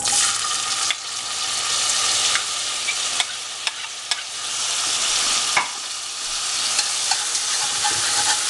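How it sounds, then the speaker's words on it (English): Onions frying in a hot pan for a Moroccan meatball tagine, a loud, dense, continuous sizzle close by with a few sharp clicks and scrapes, no voices. "I'm going to cook my onions"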